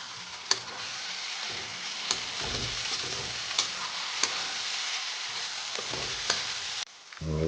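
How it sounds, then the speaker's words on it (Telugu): Chopped tomatoes and onions fry in a pan with a continuous sizzle, punctuated by regular sharp clicks of a spoon striking the pan every second or so. The sizzle is close and steady, then drops abruptly near the end, and no one speaks. "ఇప్పుడు ఒక 2 చిన్న సైజు టమాటాలు వేసుకుని ముక్కలుగా కట్ చేసుకుని అవి బాగా మగ్గనిద్దాం"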